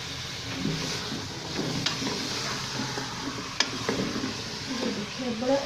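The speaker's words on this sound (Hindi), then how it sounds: "बड़ा अच्छे से ये लोग फ्राई हो रहे हैं आलू भी।" Potatoes and methi (fenugreek leaves) fry and get stirred in a pan, a steady sizzle with scraping stir strokes and a few sharp utensil knocks against the pan.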